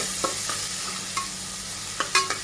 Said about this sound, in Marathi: सुरुवातीला आडवा कांदा जो कापलेला होता आपण उभा आडवा, तो कांदा आपण फोडणीला टाकू